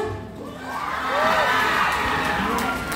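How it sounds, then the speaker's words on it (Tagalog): A youth camp crowd cheers and whoops for Madam Bea, with shouting children among them. The noise comes as a sustained, fairly loud wash of voices that swells in the middle and holds steady to the end. "make some noise for Madam Bea"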